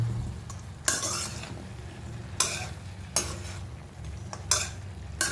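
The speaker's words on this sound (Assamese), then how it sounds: "এতিয়া আলুটো দিয়াৰ পিছত অকণ হিলাই দিওঁ।" Potatoes are stirred in a pan of pork, several scraping spoon strokes sounding over a low, steady sizzle, close and with no talking.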